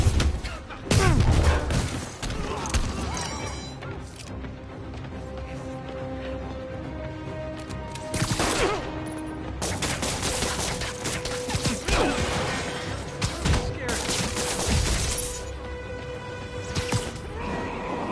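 Gunfire from muggers in Marvel's Spider-Man video game, loud sharp bursts and impacts scattered over a dense, busy game soundtrack with music and mechanical clatter, several heavy hits spaced across the stretch.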